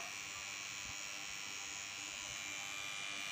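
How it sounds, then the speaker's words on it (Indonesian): Two angle grinders running together off an 800 watt pure sine inverter, giving a steady, loud, continuous motor whine and buzz with no pauses. "Kita tes langsung sekaligus menyalakan dua ini gerinda."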